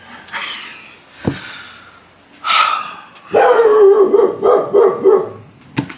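A dog barks at people digging a ditch across the street, several loud, close barks and yips with a howling edge, spaced irregularly over a few seconds.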